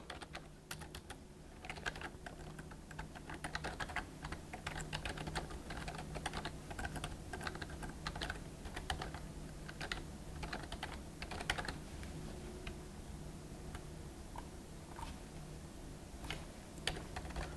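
Code is typed on a computer keyboard in a steady, rapid stream of close key clicks that continues throughout over a faint low hum.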